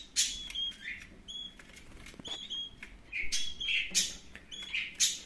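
Canary hatchlings beg to be fed in a cage, giving repeated high, thin cheeping calls in short bursts with faint fluttering and shuffling between them, close by and fairly quiet.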